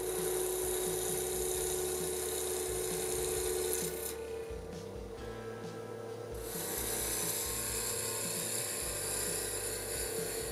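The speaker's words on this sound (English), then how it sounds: "use a skew to turn down the side of the blank until it is just a hair wider than the ring core" A wooden ring blank turned down with a skew chisel on a lathe, a continuous close scraping rasp over the motor's hum that briefly lightens mid-cut before resuming.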